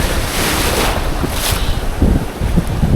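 Choppy ocean surf at moderate tide, heard from a boat out at sea: a continuous loud wash of waves mixed with heavy wind buffeting the microphone.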